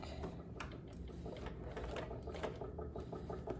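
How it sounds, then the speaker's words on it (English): A sewing machine works a stretch stitch through an elastic waistband about an inch from the edge, a close, busy rattling hum with fast repeated clicks that runs without a break. "So now I'm going to use a stretch stitch, and we're going to stitch an inch in from the edge"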